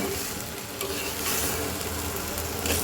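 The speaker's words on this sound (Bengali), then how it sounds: "এইবার সব কিছু একসাথে সুন্দর করে একটু ভাজা ভাজা করে নেব" Rice, small potatoes and peas sizzle steadily in hot oil in a pan for white pulao, with a spoon scraping and stirring through the frying, close and continuous.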